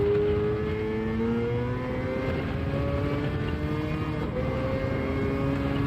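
Racing car engine in Gran Turismo 7, revving steadily at high pitch, rising through the gears with a brief shift dip, loud and continuous throughout.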